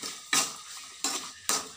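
Tomato and onion sautéing in a pan: three sharp metallic scrapes of a utensil against the pan, evenly spaced and each fading quickly, over a faint sizzle.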